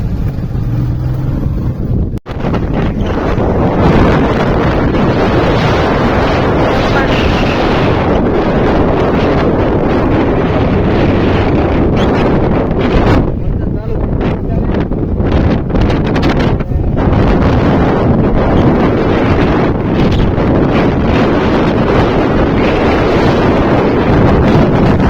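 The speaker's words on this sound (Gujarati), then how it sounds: "ફૂલ વરસાદ ને પવન સાથે આવે છે વાવાઝોડું" Strong, steady wind roars and buffets the microphone through an unseasonal summer storm with rain over farmland, with a brief dip near the start before the gusting rush continues unbroken.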